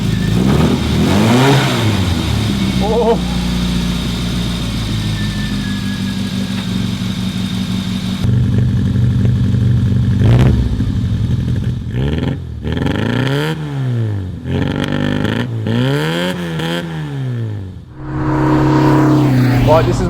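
A car engine revs repeatedly, rising and falling in pitch in several bursts, loud and close, with a brief exclamation near the start.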